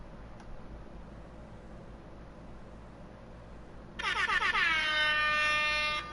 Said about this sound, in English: Delayed air horn is the best air horn.